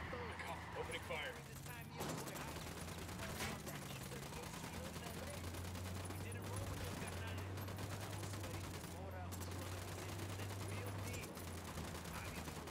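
Gunfire in the video game Ghost Recon Wildlands, a steady rattle of rapid shots running under a low background hum, with a voice speaking over it at times.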